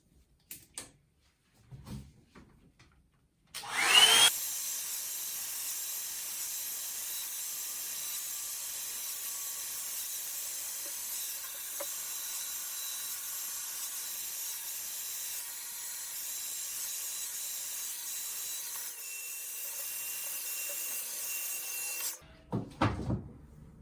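A Revlon hair styling tool blows steadily while drying hair, a loud, even airy roar running for about eighteen seconds, with brief handling knocks before it switches on and after it cuts off.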